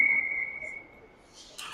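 A referee's long, steady, shrill whistle blast sounds over crowd murmur in a large ice hockey arena at a youth game, fading out before a burst of noise near the end.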